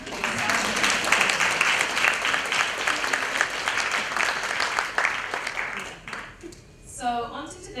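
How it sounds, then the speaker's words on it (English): A conference audience applauds loudly, dense sustained clapping that fades out after about six seconds, after which a voice begins speaking. "So if you don't mind clapping for all of us."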